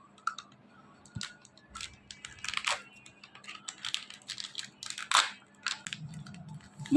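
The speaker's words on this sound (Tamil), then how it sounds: "இந்த கவருக்குள்ளே இன்னொரு கவர் இருக்குது, இதை நம்ம ஓப்பன் பண்ணிக்கலாம்." Plastic packet of Indus Valley hair colour being torn open by hand to reach an inner packet: close, quiet crinkling and crackling in short irregular bursts, with scattered clicks and brief pauses.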